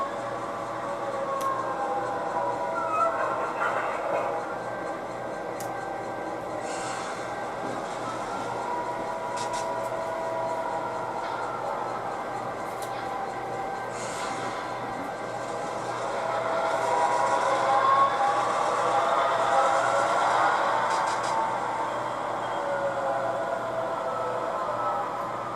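Train engines moving a caboose during local switching rumble with a low steady drone and squealing, screeching wheel tones that swell and fade, heard at moderate distance without talk.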